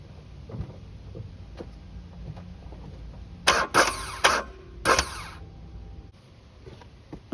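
A new starter on a 2004 Hyundai Tiburon GT V6 2.7 engages in a few short, loud bursts of whirring and clicking, heard up close against a quiet background.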